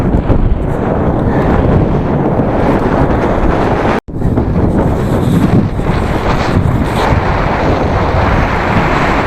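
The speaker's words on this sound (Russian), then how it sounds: "Ветер" Loud, constant wind buffeting the microphone on a mountain road in Mongolia near the Russian border, a roaring rumble that cuts out for an instant midway, then resumes just as strong.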